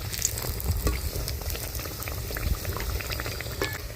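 Rice-flour pitha sweetened with date-palm jaggery frying in hot oil, a steady close bubbling sizzle with scattered crackling pops running throughout, no voices.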